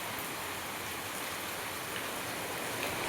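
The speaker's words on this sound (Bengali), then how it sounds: "যা বৃষ্টি হচ্ছে গাইস" Heavy rain falls on a rainy day, a dense, even hiss of drops on surfaces, steady and close throughout with no talk.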